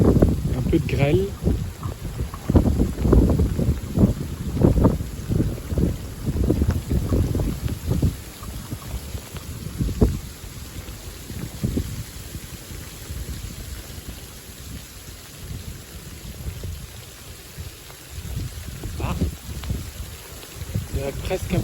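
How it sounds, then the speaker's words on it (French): Hail mixed with a little sleet falls during a surprise February thunderstorm as cold air moves in. A steady, dense patter rises and falls with wind gusts, heavier in the first half, and no voices are heard. "Il y a presque un peu de neige fondue. C'est de la grêle en fait."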